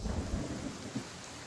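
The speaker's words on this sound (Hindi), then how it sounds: "बारिश हो रही है।" Steady rain pours down in a Hindi thriller film scene, with a dense, continuous hiss and a low rumbling undertone, and no voices.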